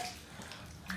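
Water runs and splashes steadily for a brief moment while a bathroom is being rinsed clean.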